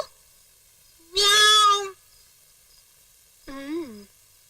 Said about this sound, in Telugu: ఏ పిల్లి వెళ్ళిపో, లేదంటే నీ తోపు కోసేస్తాను